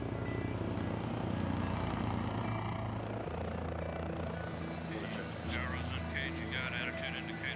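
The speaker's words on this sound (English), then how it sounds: "Taking off and landing like a helicopter, its engines can pivot forward in flight, turning a helicopter into a high-speed airplane." A V-22 Osprey tilt-rotor aircraft takes off with a loud, steady rotor thrum and engine drone, a low rhythmic beat holding throughout with higher whine on top.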